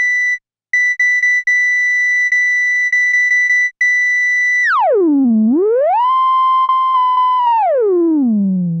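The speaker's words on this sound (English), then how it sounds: "That sound is coming entirely from the self-oscillating filter." Arturia KORG MS-20 V software synth, its low-pass filter self-oscillating at high resonance: a loud pure whistling tone, first holding steady with brief dropouts, then sweeping down, rising to a new held pitch and gliding down again, heard alone.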